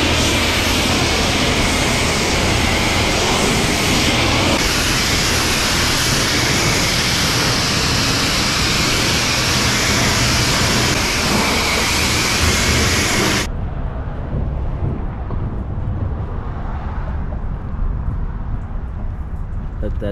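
A supercharged 2004 Mustang GT with a straight-pipe exhaust drives along, its dense, loud engine and exhaust roar running steadily throughout and dropping slightly near the end.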